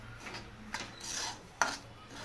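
Dry semolina is roasted over a low flame and stirred in a pan for Kolhapuri upit, giving a soft continuous rubbing and scraping with a couple of sharper spoon scrapes, quiet and close.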